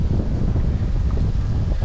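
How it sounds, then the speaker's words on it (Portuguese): Strong, gusty coastal wind under an overcast sky buffets the microphone in a constant loud low roar with no pause, and no voices are heard. "Muito vento. Muito vento mesmo, tempo fechando."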